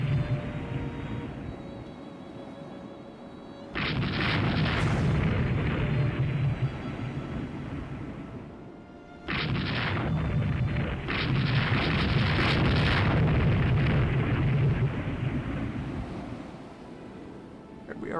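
Torpedo strikes on merchant ships in the naval game Rule the Waves II, heard as two loud, sustained roaring bursts of broadband rumble that each swell suddenly and trail off slowly, with no talk over them.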